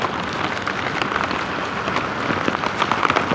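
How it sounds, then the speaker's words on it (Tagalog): Heavy rain pours steadily onto surfaces close by, a dense, unbroken hiss and patter that stays loud for the whole stretch with no voices. "Kuya, too much rain"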